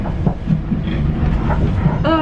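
Steady rumble of a train running on rails toward Windsor and Eton Riverside, with faint rhythmic clatter and a rising whine near the end, under a muffled background announcement.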